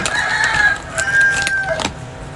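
A rooster crows loudly and close by, a drawn-out call followed by a second crow, with faint background noise.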